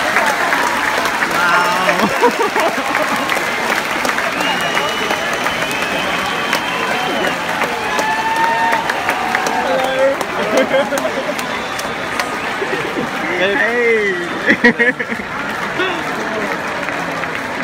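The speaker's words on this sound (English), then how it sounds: "Folks, let's get the applause going" A tennis crowd at the 2017 Australian Open applauds steadily in a large stadium, a sustained wash of clapping with occasional cheers, while a voice speaks over it.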